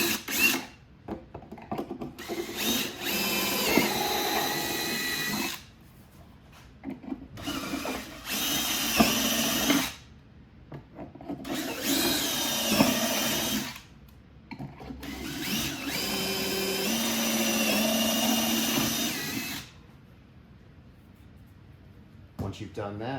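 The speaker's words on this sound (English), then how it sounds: "put that in your drill and go ahead and drill your pilot holes through these big mounting holes" A power drill bores pilot holes through mounting holes for a subwoofer mount on a 2018+ BMW K1600B motorcycle, several whirring bursts of a few seconds each separated by pauses, close and fairly loud.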